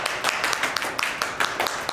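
A crowd claps for the library staff, a dense, steady patter of many hands over two seconds, close and fairly loud.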